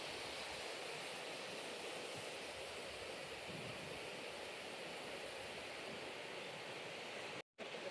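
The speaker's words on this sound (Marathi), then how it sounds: "आवाज फक्त तो पाण्याचा आणि एकदम मनमोहक आवाज असा एकदम भारी आहे." A hidden waterfall at the Pitalkhora caves, its water pouring in a faint, steady broadband rush with no breaks, calm and distant, with no voices heard.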